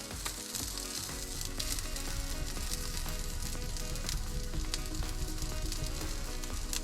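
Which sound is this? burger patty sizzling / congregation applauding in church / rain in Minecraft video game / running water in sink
burger patty sizzling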